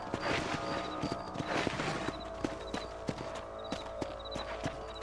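Horse hooves clip-clop in the Western video game Red Dead Redemption, a steady walking rhythm of sharp knocks over a humming ambient backdrop, with no talking.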